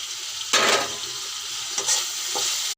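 Eggs go into sizzling fried masala paste for egg curry: a steady hiss of hot oil, with a louder burst of crackle as they drop in and two shorter flare-ups afterward, then a sudden cutoff at the end.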